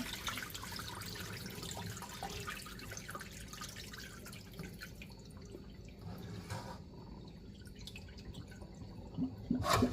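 Water runs and splashes steadily over napa cabbage being rinsed in a basin for kimchi, a continuous wash of pouring with drips, with a louder splashy burst near the end.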